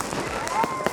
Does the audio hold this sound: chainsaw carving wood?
no